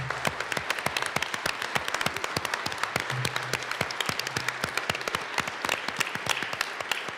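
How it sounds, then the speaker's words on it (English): Sustained applause fills a state legislative chamber in the Colorado House, dense rapid clapping from many hands continuing steadily throughout, with a faint voice briefly audible underneath. "Will you please join me in giving all these individuals a round of applause for standing?"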